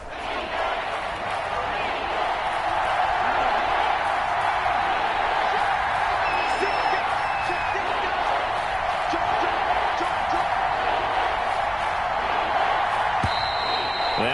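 Stadium crowd in the American football game Madden: a dense, constant roar of fans that holds at an even level throughout, with faint whistles and scattered sharp sounds on top.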